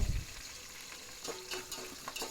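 Drumstick pieces, curry leaves, carrot and cucumber frying in oil with onions and green chillies, a steady close sizzle with stirring scrapes, no talking.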